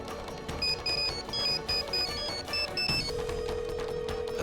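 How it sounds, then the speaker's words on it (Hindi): A phone rings in a classroom with a repeating electronic chirping pattern in short bursts, fairly close, followed by a steady tone. "मिसेस संध्या, आप क्लास के बाहर जाके कॉल ले लीजिए।"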